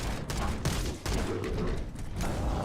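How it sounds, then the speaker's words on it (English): Heavy weapons fired by Hunters in the video game Halo: Campaign Evolved, a dense run of loud, booming shots and blasts in quick succession, close and continuous over a rumbling backdrop. "Just listen to those glorious hunters shoot"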